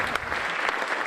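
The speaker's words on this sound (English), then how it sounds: "a round of applause for Bert Slater" Audience applause at a magic stage competition: dense, steady clapping from a crowd filling the whole moment.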